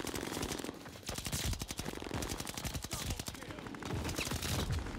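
KG-M40 rifle gunfight with the Grafito blueprint in a first-person shooter: dense, rapid automatic fire rattles almost continuously, overlapping bursts close and loud with no gaps.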